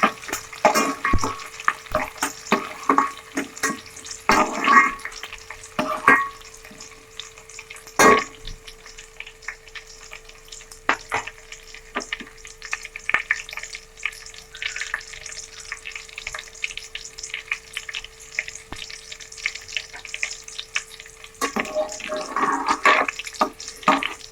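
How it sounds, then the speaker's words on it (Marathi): Chopped onion sizzles steadily in a hot pan for a spicy village-style chicken curry, with intermittent clinks and scrapes of a spoon stirring, fairly close and with no talking. "कांदा आपला आता भाजत आलाय"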